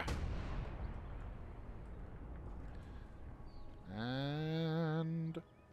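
Artillery barrage firing in the video game Call to Arms Ostfront, a heavy booming blast that rumbles and decays, followed later by a sustained high tonal whine from the game.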